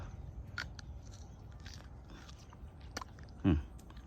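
Someone bites into a ripe banana picked in a garden banana grove in the morning; a single soft crunchy bite lands near the end, close and brief, over faint outdoor background noise.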